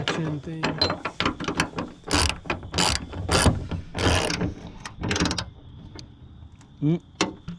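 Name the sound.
13mm socket ratchet tightening Ford Performance hood strut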